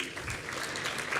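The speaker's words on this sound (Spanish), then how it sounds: "les voy a pedir un aplauso conforme vayan subiendo" An audience at a panel presentation applauds steadily, a dense wash of many hands clapping at moderate distance, unbroken for the short stretch.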